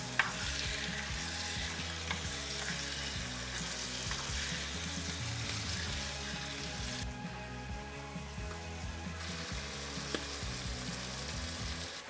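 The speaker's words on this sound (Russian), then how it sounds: "Добавлять в нашу печень. Тоже слегка ее обжарим." Wild boar liver sizzles steadily in a pan with sautéed vegetables, the continuous frying hiss staying fairly loud and even throughout, with no talk.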